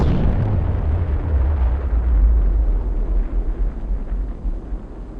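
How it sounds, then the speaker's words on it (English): A large bomb detonates at a nuclear test site in the desert, a loud, sustained low rumbling roar that rolls on steadily without any speech. "Big bomb."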